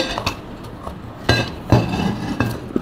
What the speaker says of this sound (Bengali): একটা বাড়ি দিলেই পুডিংটা পড়ে যাবে